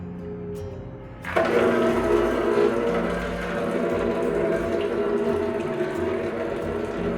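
Water starts rushing through the pre-filter of an RO water purifier, a quiet hum suddenly giving way to a strong, steady gushing flow with a pump-like drone underneath.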